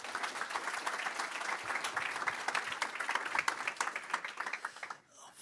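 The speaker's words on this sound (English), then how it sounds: "So give them a warm round of applause, please" An audience applauds to welcome speakers at a tech talk on computer vision at the Dutch Tennis Federation, with dense, steady clapping that fades out abruptly near the end.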